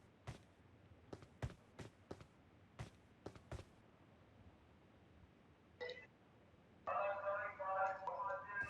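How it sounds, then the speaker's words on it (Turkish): A telephone starts ringing near the end with a bright, warbling ringtone, after a run of sharp taps and clicks in an otherwise quiet room. "telefon çalıyor"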